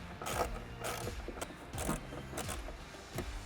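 A driver turns out two T15 screws from a Z06 side grill, giving faint, close mechanical clicks and ratcheting bursts in irregular short spurts, with no talking.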